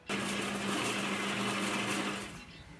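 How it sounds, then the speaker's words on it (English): A drill spinning a large Forstner bit through wood, a steady loud whir that holds for over two seconds before winding down, close and with no talk. "now I'm just going to line up the larger Forstner bit, which is going to help seat this with the little hole that we've drilled from the other side"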